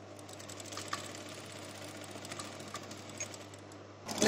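A sewing machine runs stitches along a gents' half-open shirt seam, a quiet close whir broken by light mechanical clicks, with a sharper clatter at the very end.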